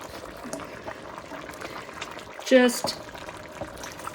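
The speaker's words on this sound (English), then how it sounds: "Now all of this liquid is going to go in that pot of chili." Liquid pours into a pot of Texas chili, a steady gurgling flow with a louder splash midway, while a person speaks briefly.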